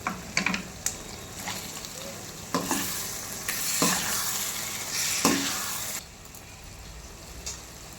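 Masala with browned onions and ginger garlic paste fries for a dum biryani, a dense close sizzle broken by repeated scraping stirs of the spoon through the pan, with no clear speech.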